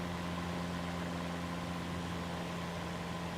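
In Microsoft Flight Simulator 2024, an aircraft engine drones with a steady, even low hum and buzzing tones, with no other sounds or talk.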